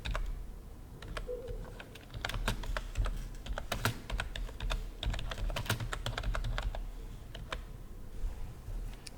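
Typing on a computer keyboard while entering answers, a steady stream of quick clicking keystrokes that runs throughout with a few heavier taps, fairly close and alone with no voices.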